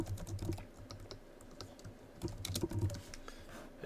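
Keys clatter on a computer keyboard as an email recipient is typed in, quick close bursts of clicks with short pauses between.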